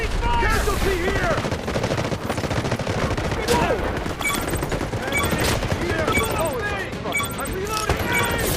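Heavy, sustained automatic gunfire from the Delta Force video game in a 24v24 warfare battle on the Cracked map, dense overlapping bursts and shots with shouted in-game voice lines mixed throughout.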